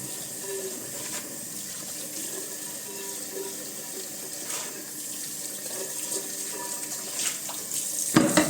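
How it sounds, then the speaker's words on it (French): Tap water runs steadily as plastic model kit sprues from a Hachette Ork Combat Patrol set are rinsed in a sink, a faint continuous splashing stream with a brief clatter at the end. "On rince à l'eau claire."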